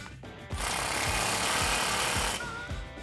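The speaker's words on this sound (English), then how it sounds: "grab your 10mm socket, and tighten this down" A short burst of power-tool whirring from a socket driver tightens a factory bracket bolt on a 2015-2019 Ford F150 during an ICON suspension lift install, loud and continuous for about two seconds, then stopping.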